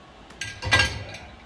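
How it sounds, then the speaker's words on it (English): Dishes and a wine glass clinking as they are loaded into a dishwasher, a few brief sharp knocks close by in a quiet kitchen. "I'm gonna put this bowl here, the front, and then the big"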